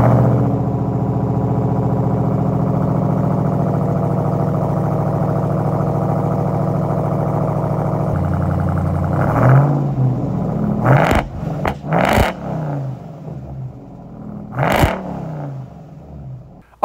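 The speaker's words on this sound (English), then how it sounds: "I opted to go with the AWE exhaust over the stock exhaust, and we'll throw some sound clips in here for good measure" RAM TRX pickup fitted with an AWE dual exhaust, a loud, close, deep idle rumble that shifts, then several sharp throttle revs bursting out and falling back.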